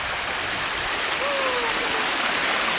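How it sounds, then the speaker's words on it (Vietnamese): Water in a clear mountain stream flows with a steady broadband rush, close and continuous, with no other sounds standing out. "Nước đây, nước suối của anh em mình sạch thế này mà có người bảo là nguồn nước không được trong sạch."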